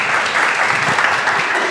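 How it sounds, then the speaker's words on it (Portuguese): A brief, loud round of applause for Abraão from a class group during a Bible lesson, dense overlapping clapping close by that stays level throughout. "Salva de palmas aí para o Abraão."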